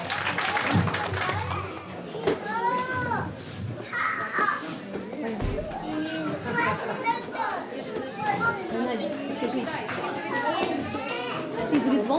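Clapping from children and adults at a St. Nicholas celebration in a church, mixed with lively children's chatter and voices throughout.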